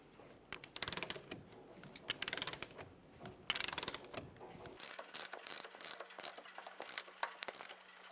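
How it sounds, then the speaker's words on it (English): Ratcheting and clicking of a 30mm socket wrench torquing the axle nut on a 2000-2007 Ford Focus spindle, a run of close, loud mechanical clicks in bursts, alone without talk. "Torque the axle nut using a 30mm socket to 174 foot-pounds."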